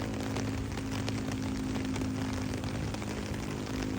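Steady rain falls continuously on a rainy day, a dense even hiss with a low hum beneath it and no voices.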